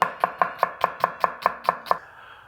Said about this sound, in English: then you just want to roughly chop it